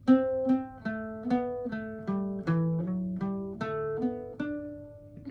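Irish bouzouki picking the second line of the jig Cliffs of Moher, about a dozen plucked notes in steady groups of three over ringing drone strings, close and solo.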